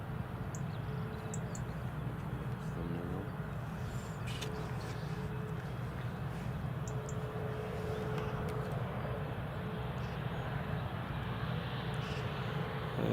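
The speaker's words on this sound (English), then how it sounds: "There's the Max taxiing." Boeing 737 Max airliner taxiing at Newcastle International Airport, a faint, steady distant jet engine rumble heard alone throughout.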